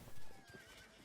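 A horse whinnies and its hooves clip-clop in a Rustler video game set in medieval times, a short, fairly loud neigh rising over quick hoofbeats with game ambience behind.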